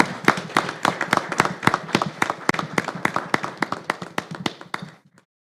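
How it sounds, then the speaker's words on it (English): Applause for students at a school board meeting, a steady rhythm of loud, close claps from a small group that keeps going for about five seconds and then stops abruptly. "So let's give them another round of applause"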